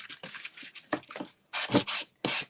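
Sandpaper rubbing off the paper edges on a large wooden monogram, heard as close, loud rasping strokes in short bursts of varying length.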